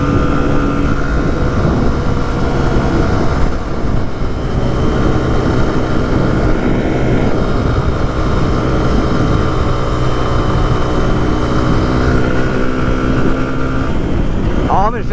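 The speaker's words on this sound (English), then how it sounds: "Oh, I'm in 5th gear. I can't go any faster." A motorbike engine drones loud and steady while riding in fifth gear, holding a constant pitch with rushing wind noise throughout.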